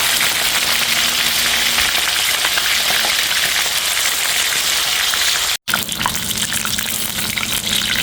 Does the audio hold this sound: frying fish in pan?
yes